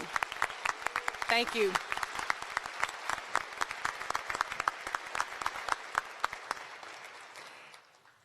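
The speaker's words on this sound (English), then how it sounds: "I think we need to give a huge round of applause for Dr. Watts and all the commitment to this university" Audience applause at a spring university graduation ceremony, honoring Dr. Watts: dense clapping fills the hall for several seconds and fades toward the end, with a brief spoken voice over it.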